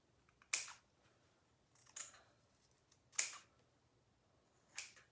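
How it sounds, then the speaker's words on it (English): Scissors cut a fabric tea towel right beside its seam in four separate crisp snips, spaced a second or so apart, close and quiet, with no talking. "So I just cut right next to the seam here."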